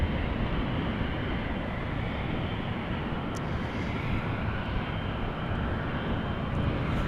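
A Boeing 777 taxis toward the runway threshold at Amsterdam Schiphol Airport, giving a steady, broad jet engine rumble and roar at moderate distance, without speech.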